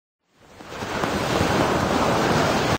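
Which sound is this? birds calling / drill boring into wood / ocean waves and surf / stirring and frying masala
ocean waves and surf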